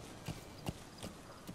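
Horse hooves clip-clop in Metal Gear Solid V, set in open-world Afghanistan: four evenly spaced, moderately loud hoof strikes at a slow walking pace, with no other sounds.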